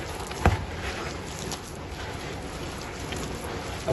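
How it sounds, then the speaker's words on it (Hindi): Steady rain pours down with a dense, even hiss, with one brief sharp knock near the start and no talking. "बारिश बड़ी स्पीड से शुरू हो गई"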